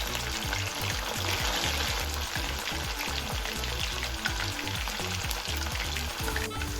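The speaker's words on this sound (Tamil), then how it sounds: "மசாலா எதுவுமே உதிர்ந்து போகாம சூப்பரா நம்ம சிக்கன் ஃப்ரை ஆகிக்கிட்டு இருக்கு" Chicken 65 deep fries in hot oil, giving a steady, crackling bubble and sizzle that carries on close-up and without speech.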